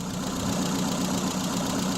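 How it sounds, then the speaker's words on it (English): An old Triumph Spitfire engine, left sitting for twelve years, idles steadily close by with a rough, uneven pulsing rhythm and a faint knock, no talking over it. "she's been sitting here running idling for a while, for about 5-10 minutes"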